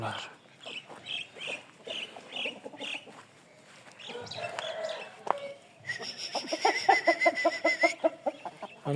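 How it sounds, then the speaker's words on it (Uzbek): Chickens cluck in a poultry shop among expensive birds, with repeated short calls and a rooster-like squawk over steady background bustle, while people talk nearby. "Qimmat tovuqlar ham shu yerda."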